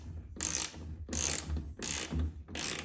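A small screwdriver turns a screw on a washing machine door, each twist giving a short burst of ratcheting, scraping clicks. There are four close, even bursts separated by brief pauses.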